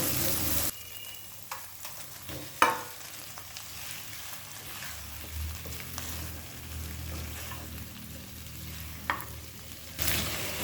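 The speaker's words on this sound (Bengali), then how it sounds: "মশলাটা কষিয়ে নিয়েছি এবার এর মধ্যে ভেজে রাখা মাছের টুকরোগুলো দিয়ে দেবো" Fried rita fish pieces are added to a spiced masala and stirred in a pan, giving a low steady sizzle with occasional scraping clinks and soft knocks of a spoon, close and alone.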